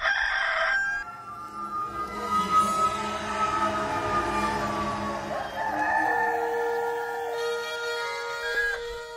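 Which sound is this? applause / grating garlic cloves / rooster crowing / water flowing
rooster crowing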